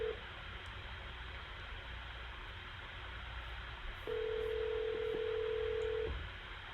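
Telephone line tones as a cell phone call drops: a steady tone line runs throughout, then a louder sustained tone for about two seconds near the end, over faint hiss.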